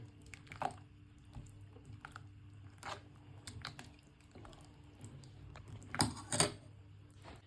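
Okroshka made with crab sticks, avocado and salt is stirred together in a bowl. The close, soft, wet squishing and light crunching comes in irregular strokes, with a few louder scrapes near the end and no talk.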